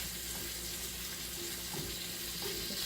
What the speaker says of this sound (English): I'm going to add a little bit of olive oil to that. Just a little bit, because I want it to just fry up a little bit.